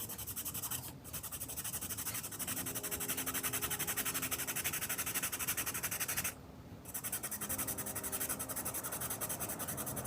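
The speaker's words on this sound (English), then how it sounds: "The set for some reason comes with a jumbo graphite pencil, so that's the first one that I'm swatching out." A jumbo graphite pencil scratching on paper as it is swatched, a steady close rasping scrawl that runs nearly unbroken, with a short pause midway.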